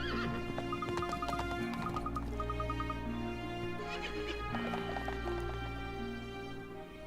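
In the video game Professor Layton vs. Phoenix Wright, a horse whinnies in several shrill, wavering bursts over a steady background, with hoof clip-clops mixed in and no talking.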